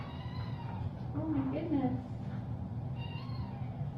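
A tiny kitten lets out a thin, drawn-out meow in the middle, heard close over a steady low background hum, with a person murmuring softly nearby.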